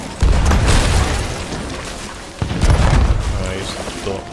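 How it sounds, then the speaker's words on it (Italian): Ship cannons firing in the pirate video game Sea of Thieves, two heavy booming bursts with rumbling tails, loud and close, one at the start and another midway, with a voice talking over the noise. "Un paio di cannonate."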